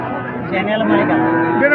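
A bull at a cattle market gives a loud, close, drawn-out moo lasting the whole moment, with a faint voice behind it.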